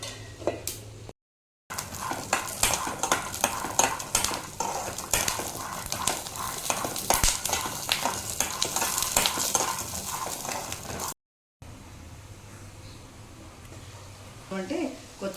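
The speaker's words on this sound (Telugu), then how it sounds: "మగ్గుతున్నాయండి టమాటాలు కూడా." Tomatoes stew in a pan for chutney while a utensil stirs them, giving soft sizzling and repeated scraping under someone talking, with two brief dropouts.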